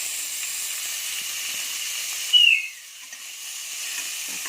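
Chopped tomatoes and garlic hitting hot oil in a pan for an Odia vegetable curry, a steady close sizzle with a brief sharp hiss midway before settling into quieter frying.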